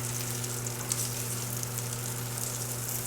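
Chili rellenos, just flipped, fry in a hot pan with a steady crackling sizzle over a low constant electrical hum, with a faint clink or two of the utensil; no speech.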